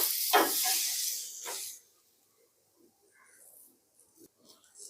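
Oil poured onto a hot pan gives a loud, close hiss for under two seconds, then dies down to faint scattered crackles.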